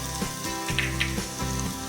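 Chopped garlic, ginger and chillies sauté in about three spoons of hot oil for cooker fried rice, giving a steady close sizzle with regular stirring swishes roughly every half second.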